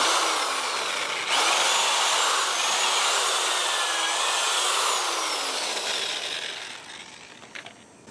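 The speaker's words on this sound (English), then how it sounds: "let me show you the power drill." A power drill breaking up ground in a patio drainage trench runs steadily with a loud, high-pitched whine that holds for several seconds, then winds down toward the end.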